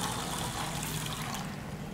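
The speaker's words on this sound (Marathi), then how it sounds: "याला आता 2-3 वेळेस आपल्याला पाण्याने धुवून घ्यायचे।" Basmati rice is rinsed with water in a pot, a close, continuous sloshing and trickling wash of liquid that holds steady for a short moment and fades slightly at the end.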